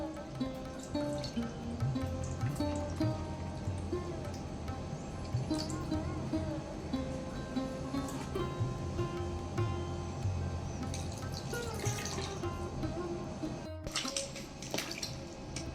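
A kitchen tap runs water into a vessel to wash mangoes for a Mangalorean mango curry, giving a steady splashing flow with dripping, continuous and fairly close, briefly cut near the end.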